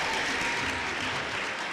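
Sustained applause from an audience at a graduation ceremony, a thick, constant clatter of many hands clapping at full volume throughout.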